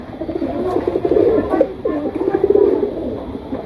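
A young pair of pigeons cooing up close, with loud, throaty, rolling coos repeating in uneven phrases over a few seconds.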